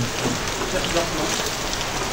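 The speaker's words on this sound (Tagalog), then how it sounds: "Ayan, lumakas na yung ulan." Heavy rain pours steadily and densely, a loud continuous wash of drops on surfaces with no break.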